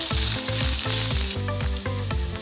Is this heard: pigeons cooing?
no